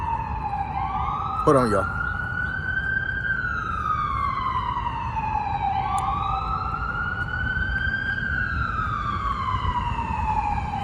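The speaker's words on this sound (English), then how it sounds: "the ambulance started the siren, yo" A loud, close ambulance siren wails in long rising and falling sweeps throughout, over traffic rumble. Someone briefly speaks over it.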